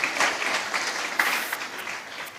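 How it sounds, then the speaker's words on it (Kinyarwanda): An audience claps for a bishop at a cultural competition event, a brief, dense burst of many hands applauding together, steady and moderately near. "Reka musabe Bishop ahaguruke mukomera amashyi menshi"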